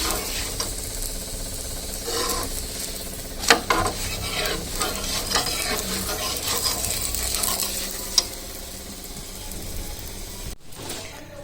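Parathas sizzle steadily in a hot pan, with stirring and scraping sounds and occasional sharp clinks of a utensil against the pan, close and continuous for about eleven seconds with no talking.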